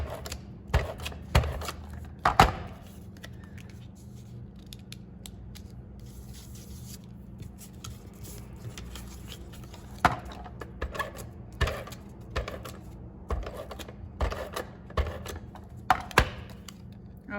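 Paper card pieces being flipped and tucked during cardmaking, heard as close, scattered taps, rustles and soft rubbing clicks at an uneven pace over a low steady hum.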